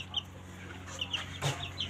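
Faint high chirps from a young chicken at a village home, a few short calls scattered over a low background hum.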